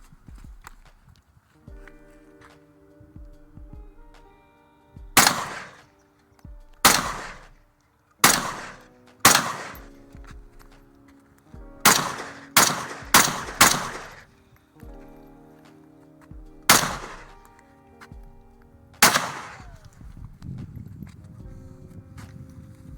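An SKS rifle fires about eleven loud, close single shots at an uneven pace, with quiet pauses and low background noise between the sharp cracks.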